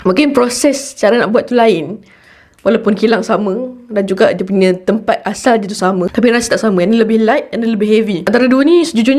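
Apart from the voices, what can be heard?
No distinct noise like a dog, phone or traffic.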